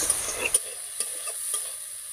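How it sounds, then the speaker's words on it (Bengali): Prawn heads and chopped onion frying and being stirred in a wok: a soft steady sizzle with a few sharp scraping clicks of the spatula, close and moderately quiet, no voices. "এবারে সব উপকরণ একদম ভালো করে ভেজে নেব।"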